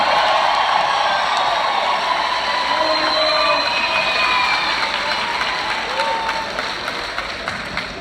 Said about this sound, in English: Come on, let's cheer. The class of 2018.